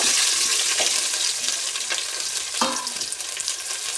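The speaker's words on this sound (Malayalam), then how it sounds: "അപ്പോൾ എണ്ണ ചൂടായിട്ടുണ്ടെങ്കിൽ നമുക്ക് സവാള ഇട്ട് കൊടുക്കാം." Chopped onion dropped into hot coconut oil for a home-style chicken curry, a steady bright sizzle running throughout with a few sharper crackles and stir clinks, close and fairly loud.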